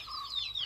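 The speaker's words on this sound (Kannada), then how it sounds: "ಕೋಳಿ ಸಾಕ್ತಾರೆ ನೋಡಿ." Chickens kept in a coop inside a flat, clucking and calling in a short, close burst of rising and falling bird sounds with no talking.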